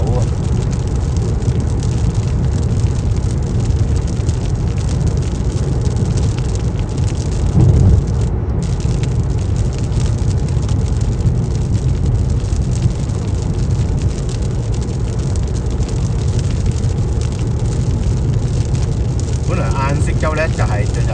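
Heavy rain drumming on a car while driving, a dense continuous wash mixed with road and engine rumble, steady and loud from start to finish with a brief louder splash partway through.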